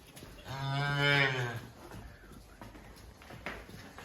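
A large calf of a big cattle breed on a farm gives one loud, close, drawn-out moo lasting about a second, followed by quiet farmyard background.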